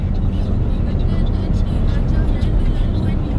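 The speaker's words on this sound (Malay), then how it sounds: "ada kenderaan di situ melintas" A white car passes along a road near a wildlife crossing in Kelantan, a steady broadband rumble held at close range throughout, with no clear rise or fade.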